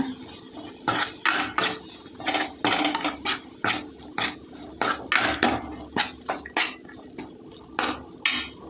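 A spoon stirring turmeric, garam masala and chili powder in a pan for chana masala, making steady rhythmic metallic clanks and scrapes, close and fairly loud, repeated about twice per second.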